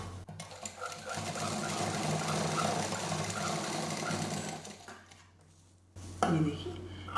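A sewing machine stitching fabric pieces for a tote bag, a fast steady mechanical whirr running for several seconds before stopping, followed by a brief clatter of handling.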